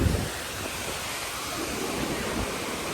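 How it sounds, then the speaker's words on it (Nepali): A mountain stream pours down to a traditional water-powered mill (ghatta) in Tangting village near Siklesh, Nepal, a constant, even roar of rushing water heard alone without any break. "यसरी सलल्ल माथिबाट खोला बग्छ"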